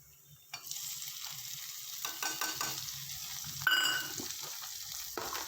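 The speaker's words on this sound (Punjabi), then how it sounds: "ਪਿਆਜ਼ ਆਪਣੇ ਭੁੱਜ ਗਏ ਹੁਣ ਇਹਦੇ ਵਿੱਚ ਮੈਂ ਪਾ ਦੂੰਗੀ ਟਮਾਟਰ" Chopped onions fry in a pan as tomatoes are added, with a sizzle that jumps when they drop in, then stirring scrapes and bursts of crackling, close and moderately loud, without speech.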